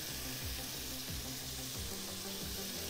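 Mini pumpkin sautéing in a pan gives a steady, loud sizzle with a few faint stirring scrapes, continuous and close, with no talk.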